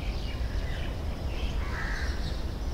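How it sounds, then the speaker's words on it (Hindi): Birds calling outdoors in the morning, dense overlapping chirps and caws mixed into a steady outdoor ambience, moderately loud with no talk. "ये परिंदों की चहचहाट, ये चिड़ियों का चहचहाना सुबह को"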